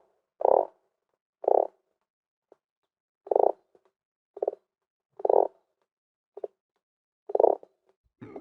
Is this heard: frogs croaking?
yes